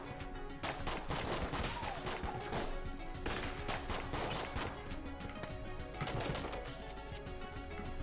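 Rapid sniper gunfire in the shooter video game Enter the Gungeon: dense, loud bursts of shots layered over steady game music, running continuously with no speech.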